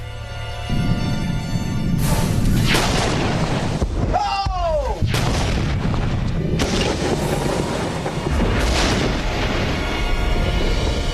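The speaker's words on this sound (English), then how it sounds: "when you're waiting for a pressure vessel to explode, you have no idea when it's gonna go off" A pressure vessel blows apart in a sudden, deep, very loud boom that rumbles and rolls on for several seconds, followed by more heavy blast-like bursts, with people's voices audible around it.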